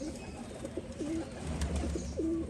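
Pigeons coo at a Rajshahi pigeon farm, several soft, low rolling coos repeating close by over a steady background hum, with no talk.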